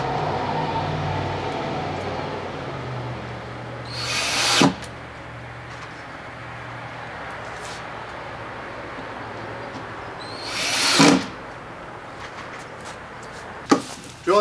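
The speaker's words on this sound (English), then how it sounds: "what we're going to do is drill two screws in on each corner" A power drill drives screws into a wooden board for a Fastrackers train layout, giving two loud whirring bursts of a few seconds each, separated by quieter handling noise, then a brief sharp knock near the end.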